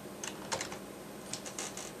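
Light, quick keystrokes tapped on a computer keyboard while entering text, a few soft clicks in short bursts against a quiet room background.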